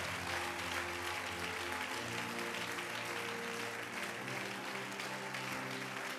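A church congregation applauds, a dense, steady wash of clapping from many hands that holds evenly throughout, with a faint voice underneath.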